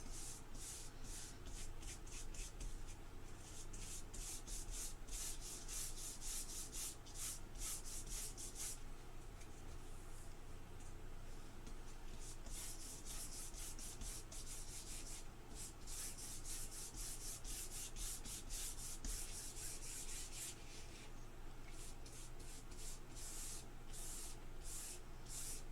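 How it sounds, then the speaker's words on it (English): A paintbrush scrubs back and forth across textured canvas in quick, close, repeated rubbing strokes, with brief pauses between bursts. "I like to go back and forth on my strokes, so I don't always go the same way"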